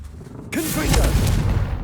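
Confringo blasting spell fired in the Hogwarts Legacy game, a sudden loud boom hitting after a brief quiet lead-in and rolling on with a rumbling, crackling tail.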